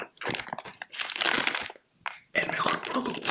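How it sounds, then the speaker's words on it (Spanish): Crunchy chorizo-flavored tortilla chips are bitten and chewed close to the microphone in loud, crackling bursts, with a brief quiet gap midway and a bag rustling along with the chewing. "mi último producto son los fritos de chorizo, mejor conocido como los Bring Me the Chorizo."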